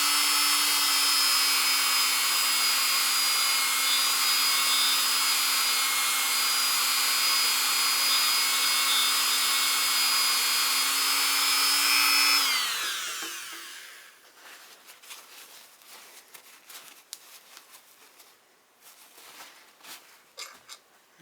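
Power tool whirring steadily at a constant high pitch while polishing a pistol barrel's feed ramp, then spinning down and stopping, followed by quiet handling clicks and rustles.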